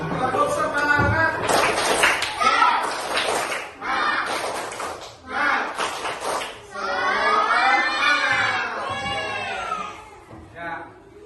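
A group of Indonesian schoolchildren in a classroom does a rhythmic tepuk semangat spirit clap, with bursts of patterned clapping alternating with loud chanted cheering voices, close and energetic throughout.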